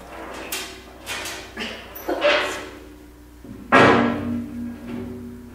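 A steel cutting edge is knocked onto a tractor bucket in several loud metallic strikes at irregular intervals, the last impact heaviest and ringing out, with faint background noise between hits.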